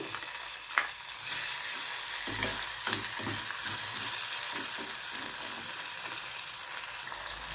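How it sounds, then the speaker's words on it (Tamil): Steady close sizzling of chopped tomatoes frying in a pan for fish curry, with a few soft stirring knocks and scrapes over the hiss. "ஸோ இப்போ நான் வந்து தக்காளி ஆட் பண்ணுறேன்."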